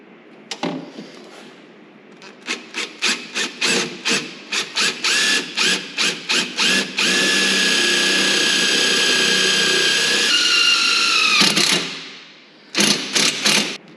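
A power drill driving self-tapping screws while a Warn VRX 4500 winch is being wired in: a rapid series of short whirring bursts, then one long sustained high whine that winds down, followed by two more brief bursts, loud and close.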